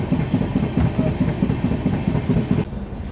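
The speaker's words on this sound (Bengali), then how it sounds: "বেশ বড় সড়ো একটা কার্ভ নিয়ে ট্রেন ধানবাদ স্টেশন এন্টার করছে" The Ranchi–Howrah Shatabdi Express rolls through a wide curve into Dhanbad station, its wheels beating a steady clickety-clack rhythm with a low rumble beneath, close and continuous, easing slightly near the end.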